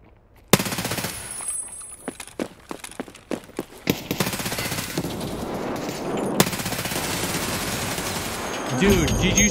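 Gunfire in the video game Escape from Tarkov during a player-versus-player fight: a string of sharp single shots, then dense rapid automatic bursts, loud and close with a final crack near the end.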